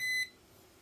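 A short, steady electronic beep with a bright tone from a high-voltage tester, lasting a fraction of a second, then a quiet hiss.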